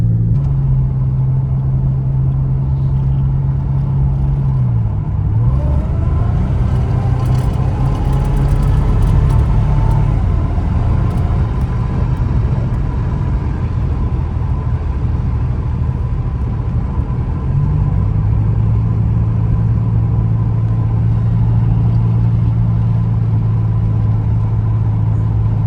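A supercharged Pontiac 6000 wagon engine runs steadily for a long stretch, a loud, close, continuous rumble with a slight shift in pitch partway through and again near the end, no voices over it.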